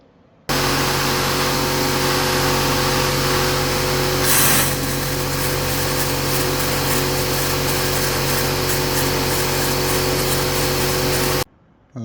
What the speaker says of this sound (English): Where I'm doing this walnut blasting